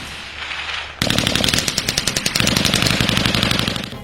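Heavy weapons fire during a military cadet field-firing exercise: a sudden loud onset of rapid, evenly spaced automatic bursts, sustained machine-gun fire rattling continuously over several seconds at close range, with no talk.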